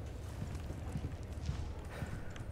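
Footsteps outside a house in Resident Evil 4 Remake, a steady low thudding trudge like hooves or heavy boots on dirt, continuous and fairly quiet throughout, with no talk.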